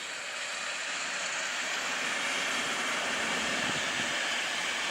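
An Intercity train hauled by EP07 339 electric locomotive, running from Łęczyca to Łódź Fabryczna, rolls past with a sustained broadband roar and hiss that builds slowly and holds steady, with no speech.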